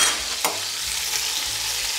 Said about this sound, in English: You can hear the sizzling. That's actually water evaporating.